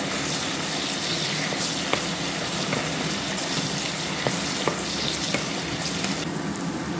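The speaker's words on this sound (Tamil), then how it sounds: "இப்போ நாங்கள் பொரித்து எடுக்கவேன்" Green beans fry in hot oil with a steady, dense sizzle and occasional sharp pops and crackles throughout, with no voices.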